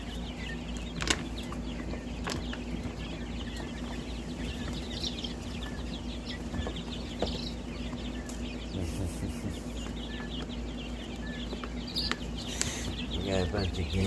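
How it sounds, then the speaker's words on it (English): Young guinea fowl in a brooder give a busy mix of small peeping chirps and wing flutters, close and continuous, with a faint hum and occasional human voices in the background. "We got a bunch of guineas in here."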